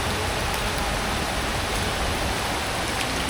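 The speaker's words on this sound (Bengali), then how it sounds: "যে বৃষ্টি পড়তেছে" Steady rain falls on the Bangla Academy grounds in Dhaka, a dense, even hiss that stays constant and fairly loud throughout with no voices.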